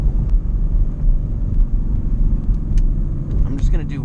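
A 2016 Ford Mustang GT with a loud aftermarket exhaust rumbles deeply and continuously while driving through a neighborhood, with the engine note rising and falling throughout and a voice briefly heard near the end.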